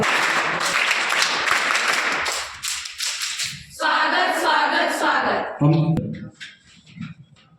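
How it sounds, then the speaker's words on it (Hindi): Welcome clapping from an assembled group at a ceremony greeting guests, a dense patter of hands mixed with voices for the first few seconds, then thinning out as speech and scattered sounds take over. "स्वागत ताली बजा"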